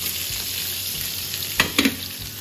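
Fish frying in hot oil in a home kitchen, a loud continuous sizzle with a couple of brief clinks from a utensil near the end, no talking.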